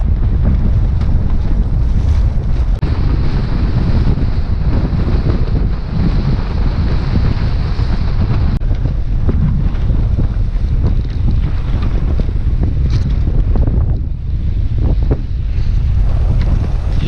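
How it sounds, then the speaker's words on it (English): Strong wind roars steadily across a sailboat at an inlet entrance, a loud, unbroken buffeting rush over the microphone, with swell and water washing beneath it and no voices. "Strong gust through here."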